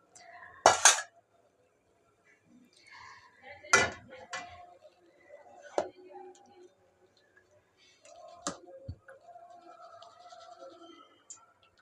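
Salted noodles are taken off the heat and moved into a pan: a few sharp metallic clanks and scrapes of utensils against cookware, spaced apart, with quieter rustling and handling between.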